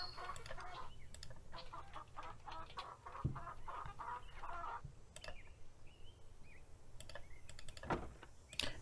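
Chickens cluck on a ranch in a video game, a faint, steady run of soft clucks and scratchy taps with occasional sharp clicks, no talk.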